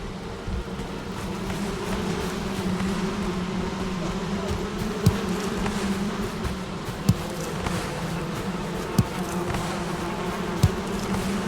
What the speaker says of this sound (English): So the beehives, you know, I mean, traditionally you put the beehives near the food because it helps pollinate it